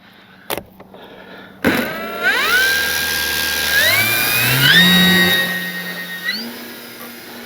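An electric motor on an FMS 3M Fox glider RC plane whirs up in steps after a couple of clicks, its rising whine climbing and holding steady, close and fairly loud.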